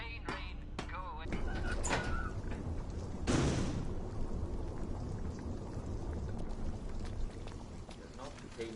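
Steady rain hisses throughout a scene in the video game We Happy Few, with a brief louder gust and a spoken broadcast over it.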